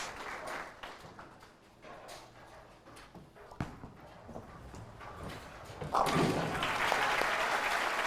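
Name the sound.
audience applause for bowler Clara Guerrero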